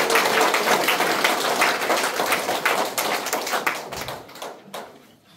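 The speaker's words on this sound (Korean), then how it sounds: "큰 박수 한번 올리면 어떨까요?" At a Korean Democratic Party provincial launch ceremony, the gathered crowd of roughly two hundred claps vigorously in a dense burst that gradually thins into scattered claps before fading.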